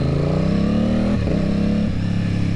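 Aprilia Tuono 660 motorcycle with a cheap eBay aftermarket exhaust revving loudly and close, the engine note climbing steadily, dipping sharply near the midpoint, then climbing again and dipping once more, with no voices.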